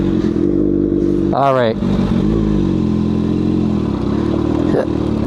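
A Kawasaki ZX6R with an M4 exhaust, baffle fitted, idles loudly and steadily up close, then revs hard in one quick rising blip, with a briefer blip near the end and a short spoken word over it.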